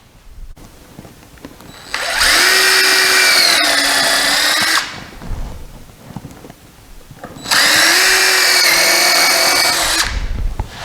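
A power drill drives screws through a wooden feeder tray down into its supporting pole while building a squirrel feeder, in two loud, close whirring bursts of about three seconds each, with brief quiet between them.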